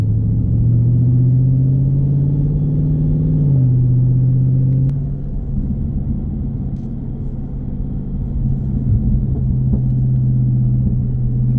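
A Dodge Charger Scat Pack's engine drones loudly and steadily as heard from inside the car, its pitch settling lower partway through, with a single sharp pop cutting through the rumble.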